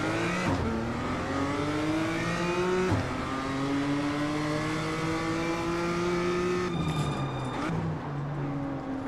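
BMW M2 race car engine at a race start at Tsukuba in the iRacing video game, loud rising revs through several gear shifts with other cars nearby, a voice talking over the engine noise.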